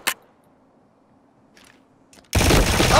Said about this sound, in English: All right, I tried to move and he shot me.